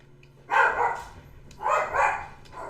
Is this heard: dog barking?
yes